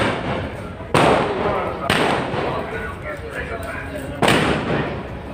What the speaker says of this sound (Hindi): ये पटाखे शुरू हो चुके हैं।